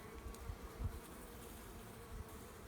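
Honeybees buzz steadily during a spring hive inspection, a close, continuous droning hum with small swells as the brood frames are handled, and no voices.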